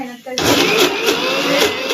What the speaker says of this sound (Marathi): किती टाइम लागतो मिक्सरला मिक्स करायला?